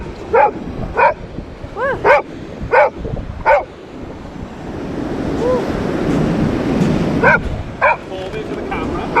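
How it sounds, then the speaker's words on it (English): Several dogs bark in short repeated bursts on a Jurassic Coast beach, loud and close over steady surf and wind, with a pause of rolling waves before more barks; a person speaks briefly. "all these dogs"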